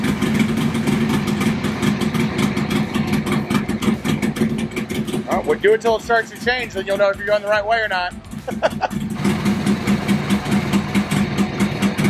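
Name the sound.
Harley Sportster motorcycle engine idling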